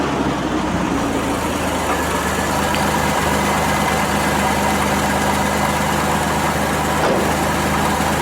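Car engine idling steadily, a constant low rumble with even vibration held close and loud throughout, with no ignition moment audible and no talking.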